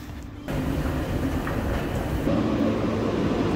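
An Athens metro train rumbles steadily, a low continuous roar of a railcar in motion that swells and grows louder partway through, with no talking.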